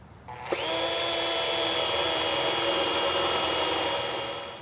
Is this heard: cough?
no